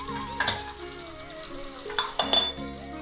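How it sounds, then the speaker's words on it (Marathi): Quiet sizzling of garlic cloves in hot oil in a pan, with a few metallic clinks and scrapes of a utensil, close by, no talking. "आणि फोडणीला लसूण घालायचं."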